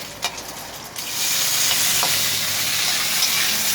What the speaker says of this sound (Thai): เพราะฉะนั้นเราเจียวไข่ก่อน